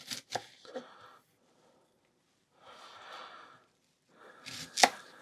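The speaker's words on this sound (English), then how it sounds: "Chop that end off there." A knife chops vegetables for a hunters' and foragers' stew: a few sharp cuts near the start and again near the end, with soft handling and rustling in between, close and fairly quiet.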